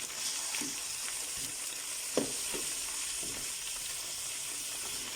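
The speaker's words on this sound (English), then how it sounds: "I'm going to be dropping in my meat all at once. I'm going to let this fry" Mutton pieces frying in a pot in their own juices for a mutton bunny chow gravy, giving a steady close sizzle and hiss with a few faint stirring scrapes and clinks, and no talk.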